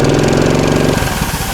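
A motor-pusher snowmobile engine running hard in deep snow, a loud, steady, close-up chugging drone that stays continuous throughout with no voices.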